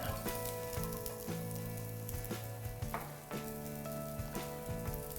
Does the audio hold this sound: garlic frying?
yes